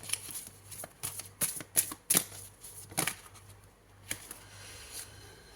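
Oracle cards being shuffled and drawn, with crisp riffling bursts and flicking slaps that come in uneven clusters and then trail off into a few isolated taps, close and clear with no talking.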